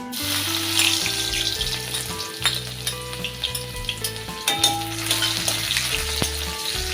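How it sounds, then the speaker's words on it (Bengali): Crushed garlic hits hot oil in a pan and sizzles loudly and steadily, a close frying hiss with stirring sounds and no talk. "তেলটা গরম হয়ে গেছে এখন আমি রসুনটা দিয়ে দিচ্ছি"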